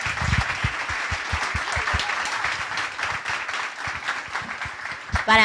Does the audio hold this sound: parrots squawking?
no